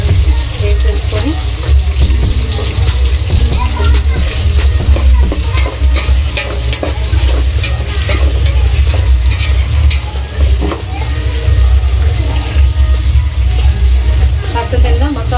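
Green chillies and spices frying and being stirred in a pan for biryani, a loud continuous sizzle with scraping stir strokes close up, a low steady hum underneath and a voice talking at times.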